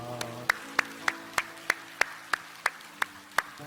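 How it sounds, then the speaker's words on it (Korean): Church congregation clapping in a slow, steady rhythm of about eleven sharp, evenly spaced claps, moderately close, over a sustained organ or keyboard chord. "우리 하나님께 영광의 박수합시다."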